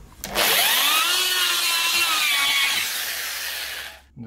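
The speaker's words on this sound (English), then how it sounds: "Now I will make for the head a larger diameter hole." A power drill bores a larger-diameter hole into wooden furniture, a single close, continuous whining grind that starts sharply, holds steady for about three seconds, then winds down, with no talking.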